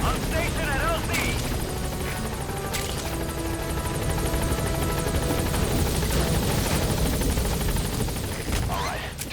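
A helicopter arrives at a landing zone in Metal Gear Solid V, its rotor roar loud and continuous throughout, with radio chatter and scattered gunfire cracks mixed in.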